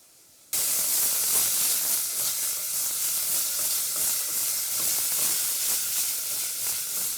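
Sliced shallots hit rendered bacon fat in a pan alongside tomatoes, bursting into a loud, even, close hiss that starts abruptly after a brief silence and holds steady.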